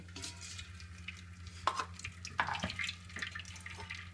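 Coarsely ground wheat is pressed and washed with water in a metal flour sieve, giving wet squelching and sloshing with a few sharper splashes over a low steady hum, and no talking.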